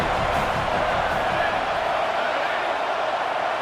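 Roaring home crowd in an American football video game, a dense, steady, loud wash of cheering with no break, speech faint beneath it.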